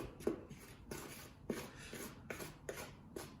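Rosemary and garlic are worked into focaccia dough with a rhythmic series of soft, scraping strokes, about one every half second, close and fairly quiet.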